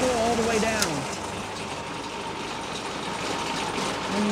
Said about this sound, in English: I'm going to let it idle back down to 1200 or about.